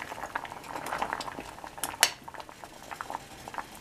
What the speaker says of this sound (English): Let that boil a little bit.